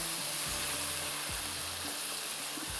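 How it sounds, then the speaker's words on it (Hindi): Large pieces of fish fry in a pan with mustard paste, masala and salt, giving a dense steady sizzle close up, with a low hum underneath and a few soft stirring scrapes. "इसको थोड़ा सा आपने भुनाई कर लेनी है"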